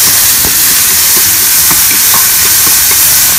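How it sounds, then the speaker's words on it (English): Bacon crisps in a pan with a loud, dense, continuous sizzling hiss and scattered small pops and crackles, close up with no voices. "crisp this bacon up."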